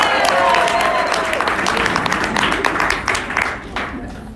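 At a SaaS business forum in Atlanta, an audience claps for a presenter, a moderate, fairly thin round of applause under a talking voice that tapers off toward the end.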